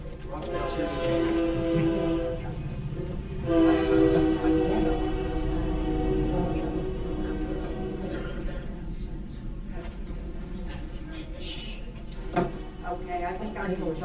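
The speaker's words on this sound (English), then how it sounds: "can we let the train pass so you get your time?" A train passes outside a Claremore city council meeting, its long horn blasts sounding in two sustained pulls over a low rumble, with people talking faintly in the room beneath it.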